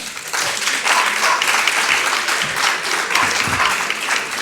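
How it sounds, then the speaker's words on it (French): Steady audience applause fills a French legal conference hall, a dense, continuous wash of clapping at even loudness with a faint voice or two underneath. "Louis de Gosse, sous vos applaudissements"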